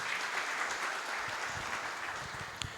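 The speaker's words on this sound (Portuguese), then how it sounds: "Muito bom, palmas" A seminar audience applauds, a dense, even patter of many hands clapping at once that holds steady and then tapers slightly at the end.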